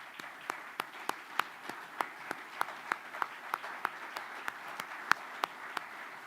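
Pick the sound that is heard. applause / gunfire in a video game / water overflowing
applause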